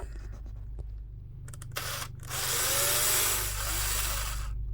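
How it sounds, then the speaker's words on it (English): A power drill boring holes through the hull of a Pro Boat 17-inch RC power boat racer, fitting trim tabs and turn fins; a steady low motor hum rises into a louder, sustained drilling whine for the last few seconds. "I got both sides drilled out"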